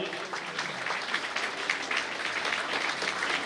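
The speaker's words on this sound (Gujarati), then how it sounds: "તો આપણે જોરદાર તાળીઓથી વધાવીએ." Applause from an audience at a blind welfare organisation's grain-kit distribution in Ahmedabad as a guest is honoured, a moderate wash of clapping hands that holds steady and carries some background chatter.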